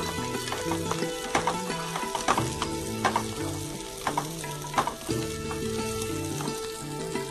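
Chopped onions sautéing in a pan, a steady busy sizzle with frequent scraping taps from a stirring utensil, close and fairly loud with no voices.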